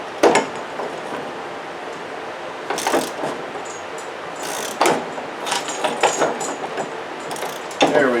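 A ratchet tightens a 13 millimetre bolt on an aluminium 3-ton jack stand, producing steady close clicking with several louder sharp bursts scattered through.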